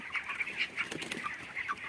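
Chickens on a large poultry farm, a faint mix of short clucks and chirpy calls from a flock, heard at some distance with no talk.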